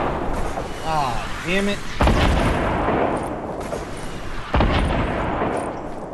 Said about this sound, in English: He's gonna shoot the rocket launcher.